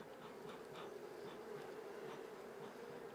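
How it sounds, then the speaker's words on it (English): Honey bees buzz steadily around a hive frame holding queen cells, a dense, even, close drone with no voices. "let's take out our smoker and get some of the bees off of the queen cell there"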